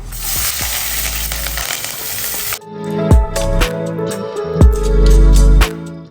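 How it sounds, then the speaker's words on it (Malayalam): Chopped onion, green chillies, crushed garlic and curry leaves go into hot oil, giving a loud close sizzle with spattering crackles and a few utensil knocks against the pan. "പിന്നെ ഇവിടെ ഒരു ചെറിയ സബോള കട്ട് ചെയ്തിട്ടുണ്ട് പിന്നെ രണ്ട് മൂന്ന് പച്ചമുളക് പിന്നെ ഇത്തിരി വെളുത്തുള്ളി ചതച്ചത് കറിവേപ്പില അപ്പോൾ നമുക്ക് ഇതെല്ലാം ഇട്ട് കൊടുക്കാം"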